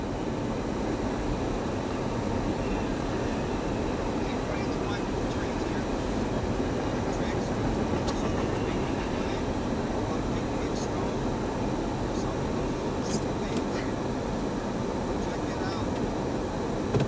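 A Norfolk Southern freight train rumbles past in lake effect snow south of Buffalo, a continuous, loud, broadband roar and clatter holding steady throughout without pause.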